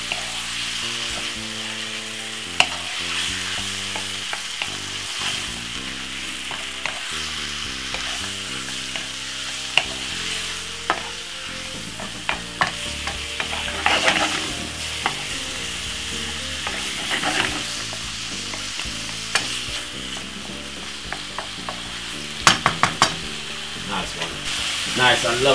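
Chicken fries in a frying pan with a continuous close sizzle, broken by frequent scraping and clacking stirs of a utensil against the pan over nearly half a minute.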